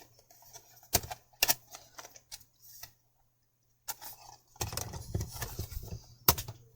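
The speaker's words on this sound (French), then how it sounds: "pour mettre le papier, on est obligé de sortir le chargeur, d'ouvrir, de refermer et de remettre ici" Clicks and plastic snaps from the paper cassette of a Canon Selphy CP1500 photo printer being opened, closed and slid back in: a few sharp isolated knocks, a pause, then a denser burst of handling rattle ending in a final click.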